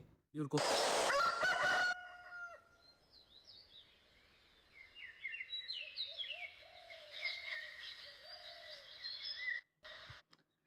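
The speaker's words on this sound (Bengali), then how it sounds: "ঘুঘু পাখি ডাকতেছে, মুরগি ডাকতেছে" An AI-generated rural scene opens with a loud, close rooster crow, followed by a continuous layer of doves and small birds calling and chirping at moderate distance.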